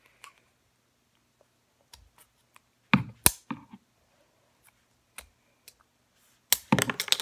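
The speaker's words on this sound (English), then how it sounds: "getting some scissors and cutting them off right around right here" Scattered sharp clicks and snaps of scissors cutting a cheap thin metal spoon, irregularly spaced with silence between, a couple louder cracks near the middle and end.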